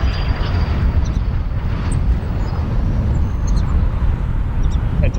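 Embraer 145 airliner landing at O'Hare International Airport, a steady broadband engine roar with low rumble holding at constant loudness throughout, slightly distant and without distinct talk.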